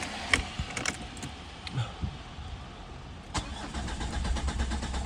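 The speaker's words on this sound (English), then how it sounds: "it did start, but it took quite a bit of cranking when it was warm" Citroen C5 engine, warm after sitting twenty minutes, cranking at length before catching and settling into a steady idle, with a few sharp clicks and knocks early on.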